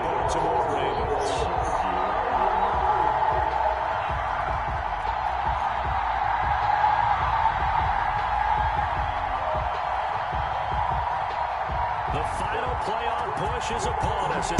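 Stadium crowd in an EA Sports NFL video game, Denver Broncos versus Baltimore Ravens in week 12, roaring in a steady, dense wall of cheering that holds loud and unbroken throughout.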